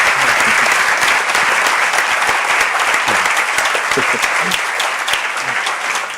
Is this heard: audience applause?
yes